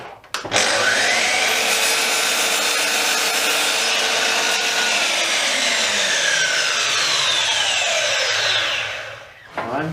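Power saw trimming the end of a decking board, a loud steady high-pitched whine that holds for several seconds then winds down as the cut finishes, close up with no talking.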